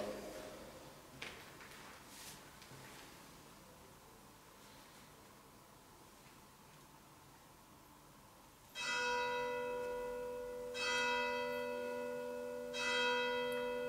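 A church bell at a castle in Montemale rings loudly in three spaced strokes, each leaving a long resonant hum, after a stretch of quiet outdoor ambience with faint rustling.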